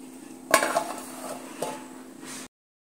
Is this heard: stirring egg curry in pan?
yes